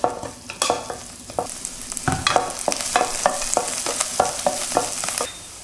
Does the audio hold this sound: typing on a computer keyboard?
no